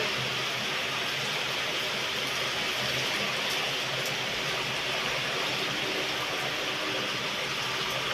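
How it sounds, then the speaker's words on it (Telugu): Heavy afternoon rain pours down in a steady, dense hiss that stays loud and even throughout, with no voices. "ఎంత ఇదిగా వస్తుంది వాన"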